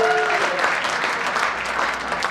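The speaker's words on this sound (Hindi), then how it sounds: "मिसेस पावा के लिए जोरदार तालियां बजा दो" Loud, sustained applause from an audience at a school alumni meet, dense and steady throughout, with faint voices mixed in beneath the clapping.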